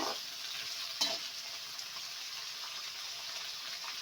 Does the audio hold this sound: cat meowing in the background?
no